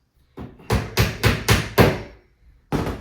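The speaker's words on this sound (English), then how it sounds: "Hammer this." Sharp hammer blows strike a nail while assembling a flat-pack wardrobe: five quick, evenly spaced hits, a short pause, then one more, loud and close.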